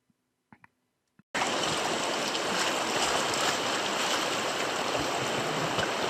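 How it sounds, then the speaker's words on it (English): Flowing water on the Kangakut River during a rafting trip, a steady, loud rushing wash that starts abruptly after a few faint knocks and then continues unbroken, with no voices. "Just cruising down the Kangakut River."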